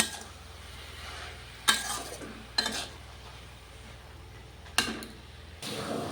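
Spinach with salt and turmeric is stirred in a pan under a faint sizzle, punctuated by three or four sharp scrapes and clinks of a utensil against the metal.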